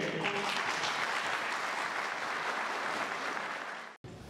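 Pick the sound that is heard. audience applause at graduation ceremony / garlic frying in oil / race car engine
audience applause at graduation ceremony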